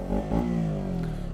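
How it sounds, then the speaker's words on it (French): KTM RC 125 motorcycle engine running close by, a steady buzzing idle that swells slightly then settles, with no talking. "le moteur ronronne"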